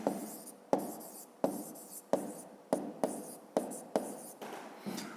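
Close, crisp pen-on-paper strokes as an answer to a fifth-grade math exercise is written by hand, coming in about eight regular bursts that each start sharply and trail off, with no talking.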